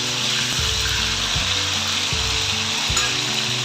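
Cauliflower florets fry in hot oil with a dense, steady sizzle, close and constant throughout, with a few faint knocks beneath.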